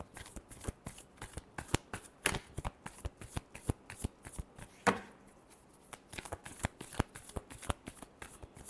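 Tarot cards being shuffled by hand, a long run of quick, sharp riffling snaps and flicks in an irregular rhythm, close and fairly quiet, with no talking.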